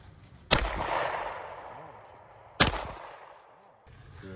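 Two sharp rifle shots aimed at a Tannerite target on a tree ring out about two seconds apart, each a loud crack followed by a long rolling echo across open ground.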